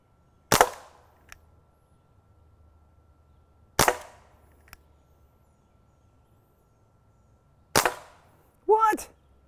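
A toy 357 Magnum dart gun fires three sharp, snappy shots spaced a few seconds apart, each followed by a faint tick of the dart landing, with a brief squeaky sound after the last shot.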